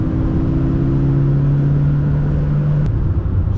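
A 1974 BMW 2002tii drives along a twisty mountain road, its engine holding a steady, loud mid-range drone with a sustained tone that shifts near the end, continuous and close with no voices.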